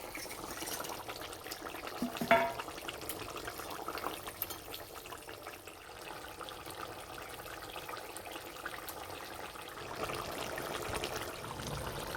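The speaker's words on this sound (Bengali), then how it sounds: "ঝোল ফুটে গেছে, এবার মাছ দেব।" Light fish broth with ash gourd and bata fish simmering in a pot: a faint, continuous bubbling and hiss of boiling liquid, with a brief louder splash early on.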